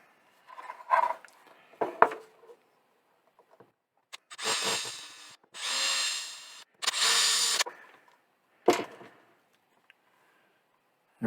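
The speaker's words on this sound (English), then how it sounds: "we'll probably drill through right from the center" A drill bores through the plastic case of an OWL energy meter in three loud, close bursts of whirring, each lasting about a second. Scattered clicks and handling knocks come before and after the bursts.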